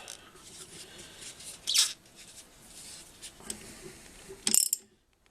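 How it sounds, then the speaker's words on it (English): Ratchet snugging a bolt on the right side cover of a Penguin engine, with soft mechanical clicking and a couple of sharper metallic clacks, close and fairly quiet before the sound cuts off. "snug it up a little bit with the ratchet"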